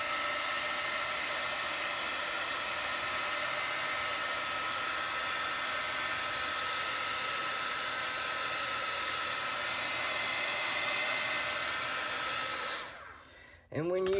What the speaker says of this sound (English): I'm going to put the heat tool on one more time and go back over it to get the little lines out.